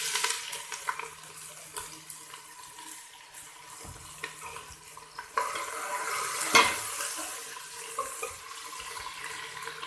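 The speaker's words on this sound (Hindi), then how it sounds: "अब मैं सिर्फ 1 मिनट के लिए इसको शैलो फ्राई करूँगी।" Onions shallow frying in oil make a soft, steady sizzle and crackle close by in a home kitchen, with occasional clinks and stirring, no talking.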